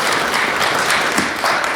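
A live concert audience applauds in a brief, dense burst of many hands clapping together, loud and even from start to finish.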